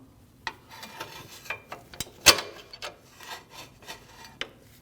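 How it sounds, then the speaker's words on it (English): A serpentine belt slides off the tensioner of a 2014–2023 Jeep Cherokee 2.4L four-cylinder, heard as a series of close, dry rubbing and scraping sounds with a few sharper clicks, no talking. "and then slide your belt off"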